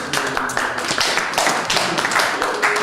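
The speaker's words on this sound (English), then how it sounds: "give these guys a round of applause" A small group applauds after a job role presentation, a close, busy patter of hand claps running steadily throughout with no pause.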